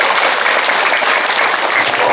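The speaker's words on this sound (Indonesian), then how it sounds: "Tepuk tangan untuk ajengan setempat." Loud, dense applause from a seated audience at a religious lecture, honouring local Islamic clerics, sustained evenly as a thick wash of many hands clapping throughout.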